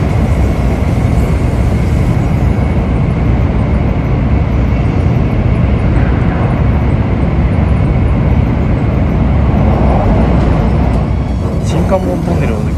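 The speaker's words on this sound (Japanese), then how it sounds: "小倉を発車したのぞみ64号は新関門トンネルへ入りました。" A Nozomi 64 Shinkansen bullet train runs through the Shin-Kanmon undersea tunnel between Kyushu and Honshu, filling the cabin with a loud, steady, unbroken roar and rumble for the whole stretch.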